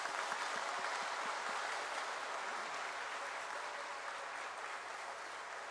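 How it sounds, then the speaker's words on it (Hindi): Applause from a gathering welcoming national guests at a community meeting and press conference, faint and somewhat distant, a steady wash of clapping that fades slightly toward the end. "आप लोग एक बार सबके सम्मान में इनका जोरदार तालियों से स्वागत करें"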